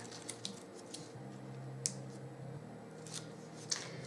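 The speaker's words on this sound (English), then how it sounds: "I'm going to take one of those flaps and I'm going to peel away that tape" Double-sided tape peeled away from a paper gift bag flap, giving faint sticky crackles and a few sharp ticks over quiet room tone.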